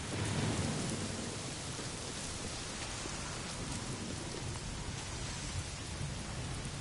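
Steady, dense rainfall in the video game Days Gone pours down continuously, with a low rumbling undertone like distant thunder, fairly quiet and without voices.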